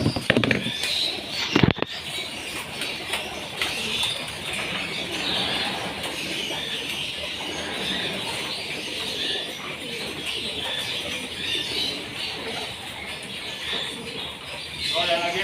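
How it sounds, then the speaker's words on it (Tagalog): Pigeons coo and flutter inside a breeding section during feeding, a dense, continuous murmur of bird calls with occasional wing flaps and a voice talking underneath. "dito naman tayo magpapakain sa mga breeding section niya"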